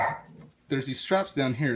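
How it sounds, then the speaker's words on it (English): Taco, a pet dog, barks sharply a few times indoors, close and loud, with a person talking over and between the barks. "That's my dog Taco."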